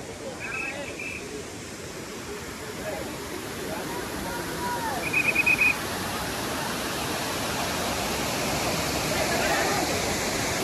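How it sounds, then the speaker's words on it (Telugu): Tirathgarh waterfall roars in a broad, unbroken wash of rushing water, loud and constant throughout, with a brief high tone midway and faint crowd murmur buried beneath. "ఈ తీర్థగఢ్ వాటర్ ఫాల్స్ 360 degrees చూడండి ఎలా ఉందో"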